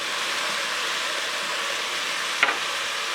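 Browned bison meat sizzles steadily in a pot for carne guisada as it is stirred, a dense, even frying hiss with a single utensil clink partway through.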